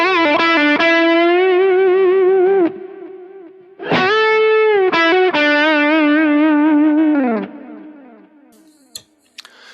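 A distorted electric guitar plays sustained lead notes through a Kemper Profiler, each phrase trailing into repeating analog-style delay echoes with high cut at 6 kHz that fade with a slightly darkened tone.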